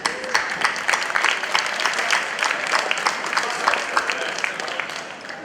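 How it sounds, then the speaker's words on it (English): A conference audience of finalists at a BubbleCup event in Belgrade gives a sustained round of applause, many hands clapping densely and evenly from start to finish. "give yourselves a big round of applause for making it to the finals"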